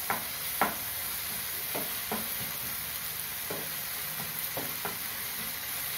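Tomatoes with turmeric powder sautéing in a pan for dhaba-style egg keema masala: a soft, steady sizzle broken by a few sharp spatula taps and scrapes as it is stirred, heard up close with no talking.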